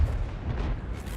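A FV4005 tank gun fires in a video game, a heavy low boom with a rumbling tail lasting about a second, loud and close with no voices over it.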